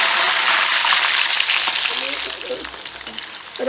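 Fenugreek seeds and peeled whole garlic cloves sizzle and crackle steadily in hot oil for a pickle, a loud close frying hiss that eases slightly midway, with a brief spoken word over it.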